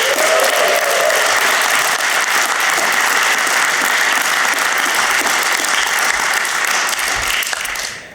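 Sustained applause from a graduation ceremony audience at an MBA commencement, dense steady clapping throughout that fades out near the end.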